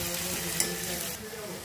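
Tomato puree sauce sizzles and spatters in a hot pan while being stirred, a steady hiss with a brief scrape partway through.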